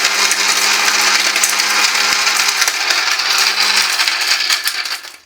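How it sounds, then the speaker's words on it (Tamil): A kitchen mixer grinder grinds broken tile stones, giving a loud, harsh, continuous rattling whir with a steady motor tone and clattering fragments, winding down at the end. "கண்ணு முன்னாடி டைல்ஸ் போட்டு அரைக்கிறோம் பாருங்க"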